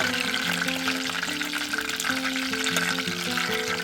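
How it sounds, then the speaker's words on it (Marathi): Marinated fish fries in oil on a tawa griddle over a curry-leaf tempering, village style, giving a continuous close sizzle with steady tonal music layered over it. "मग आपला मासा जाईल यावरती मॅरिनेट केलेला."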